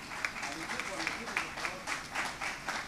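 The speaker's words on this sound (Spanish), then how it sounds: "Por favor, un aplauso para Paul" Applause from an audience at a corporate event honoring a regional manager, a steady wash of clapping at moderate level with talk running over it.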